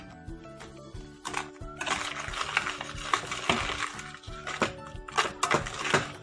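Margarine, sugar and egg being beaten together for cookie dough, an electric mixer whirring with repeated rattling scrapes against the bowl, loud and uneven throughout.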